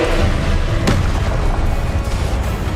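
Confringo explosion spell cast in Hogwarts Legacy, a loud, dense blast with rumbling low-end that sustains through the whole moment, with a sharper burst cracking out near the start.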